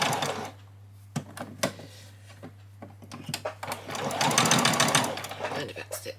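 A sewing machine runs in short bursts as it back stitches fabric for a spring bunny outfit, its rapid mechanical whir loud and close, alongside a steady hum and a voice speaking in between.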